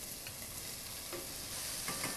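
Carrot, celery, onion and leek go into hot oil in a pan for a venison ragu, giving a soft, steady sizzle with light stirring scrapes, fairly quiet and close, with no voices.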